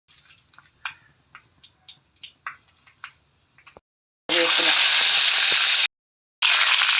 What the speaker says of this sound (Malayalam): എണ്ണ ചൂടാകുമ്പോൾ ലേശം കടുക് ഇട്ട് കൊടുക്കാം.